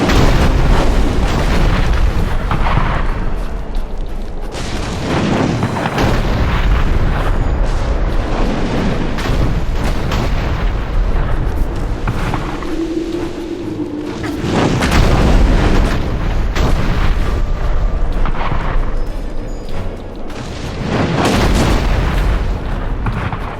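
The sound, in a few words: artillery cannon fire from gunners in Dungeon Siege 3 video game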